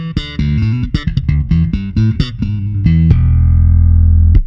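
Slap bass played with a smiley-face EQ, bass and treble boosted and mids cut, gives a quick run of loud, punchy popped and thumbed notes that ends on a long sustained low note ringing out.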